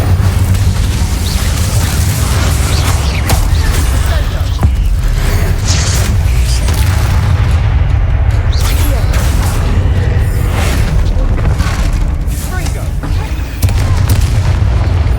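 In the video game Hogwarts Legacy, the Incendio fire spell is cast in a goblin mine, producing a loud, continuous roaring blast with deep rumbling booms and crackling bursts layered throughout.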